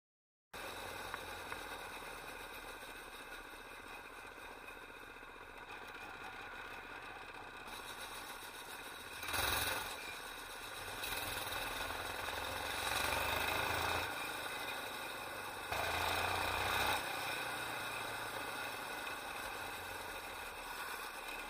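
A 212cc go-kart engine idles steadily and fairly close, a constant mid-pitched drone that briefly swells in a few short rises, with no talking.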